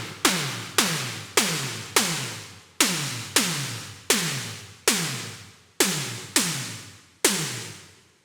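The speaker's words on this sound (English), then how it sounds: "So that's the snare sound." Synthesized snare drum from a Xenophone synthesizer using ring modulation and filter feedback, a series of about eleven sharp noisy hits with quick decays, evenly spaced in a loose rhythm and heard alone.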